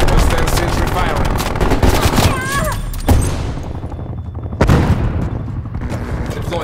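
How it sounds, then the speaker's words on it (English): Rapid automatic fire from a hostile sentry turret in Call of Duty: Black Ops Cold War, loud and continuous bursts with heavy booming impacts, a short pause, then more thumping shots, while a voice calls out over the battle. "Hostile sentry firing."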